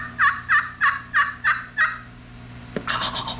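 A wild turkey, a southern eastern longbeard, gobbles in six evenly spaced, clear calls. A brief sharper clatter and a burst of higher rustling noise follow.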